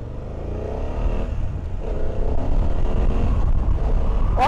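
A BMW F800 GS motorcycle engine drones steadily while riding, with road and wind noise and a rising rev near the end, heard close with no talking.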